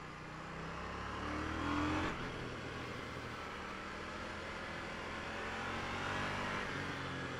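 A KTM 890 Duke motorcycle engine revs and swells briefly, then settles into a steady running drone, heard fairly close with no talk.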